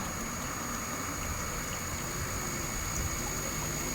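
Steady rushing water pours continuously into a container at a water refilling point in Taiwan, even and fairly loud throughout with no pauses, and no voices.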